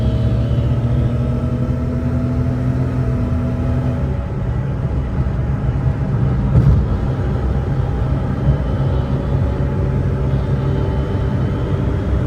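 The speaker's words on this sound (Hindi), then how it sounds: "अब मैं आपको सिर्फ एक गाड़ी को थ्रोटल दे के दिखाता हूँ" A Suzuki Alto VXR 660cc car engine idles and then briefly revs up, a low rumble rising and settling, close by with no talking.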